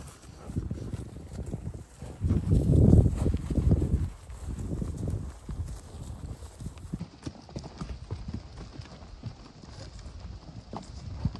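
Pack horses on a summer trail trip walk with steady clip-clopping hooves, close and fairly loud at first, then lighter and more even over light wind noise.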